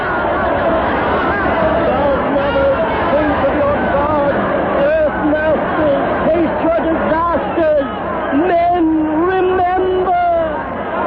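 An agitated crowd murmurs and babbles continuously in a 1937 radio drama, a dense, restless wall of overlapping voices with a narrow, old-broadcast tone.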